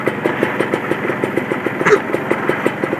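A Yamaha F1ZR two-stroke motorcycle engine idles right after a kick start, with a steady, close, fairly loud putter of even rhythmic pulses throughout.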